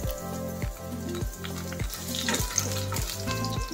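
Onion frying in olive oil in a pan, giving a steady close crackling sizzle with a repeated rhythmic pulse of stirring or tossing throughout, and no voices.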